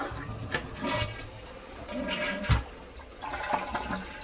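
The small flush of a dual-flush toilet tank: water rushes and gurgles briefly with a couple of sharp knocks from the push button, at moderate, close range and without talk.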